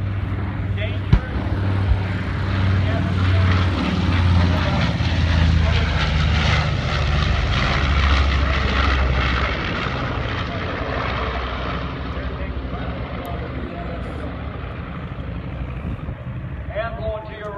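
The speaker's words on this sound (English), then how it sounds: "As the 4-engine single-tail airplane comes out in front of most of you" A four-engine single-tail WWII airplane roars past loudly and close at the Oshkosh airshow, its droning propeller engines swelling and then slowly fading away, with an announcer talking over it.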